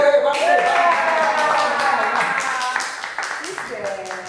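Clapping from a stadium crowd, with dense broadband claps and cheering voices blending into a loud, sustained roar that thins toward the end.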